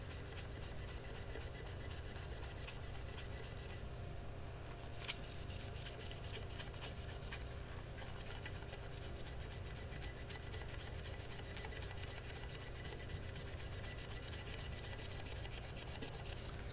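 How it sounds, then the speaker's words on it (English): Continuous close-up scrubbing and rubbing as powder coat residue is worked off a tumbler bottle, a steady gritty friction sound with brief pauses and no talking. "Having a hard time today, actually, getting the powder coat residue off of this bottle."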